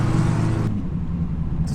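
A 1972 Datsun 580Z carrying a cast-iron 350 Chevy V8 with a lumpy cam rumbles close by with a deep, steady idle, one short rev fading at the start.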